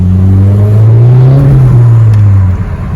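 A Volkswagen Golf V GTI with a stainless exhaust revs hard, a loud, close, sustained engine drone that climbs and falls in pitch before easing off.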